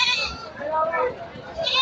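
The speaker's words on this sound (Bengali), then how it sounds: "দেখেন যত দূর চলবে তত দূর খালি ছাগল আর ছাগল।" Goats bleat close by at a crowded Sunday goat market after rain: a couple of wavering, nasal calls in quick succession.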